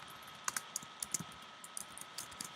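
Light typing on a computer keyboard while coding in an IDE, with scattered soft key clicks in irregular short runs, close and quiet, with no talk.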